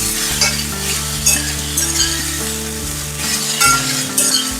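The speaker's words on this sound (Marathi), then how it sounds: "आता आपल्या ह्या मुठ्या टाकूया. छान अशा आपण परतून घेऊया." Spinach paneer muthiya sautéing in a pan, a loud close sizzle with repeated clinks and scrapes of a spatula, under a steady low mechanical hum.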